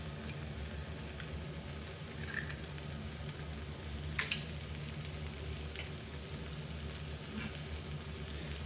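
Eggs frying in the wells of a pan for a lentil dish, a steady low sizzle that runs throughout with a few faint clicks and taps, no voices.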